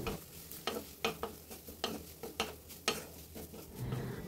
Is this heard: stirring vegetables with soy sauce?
yes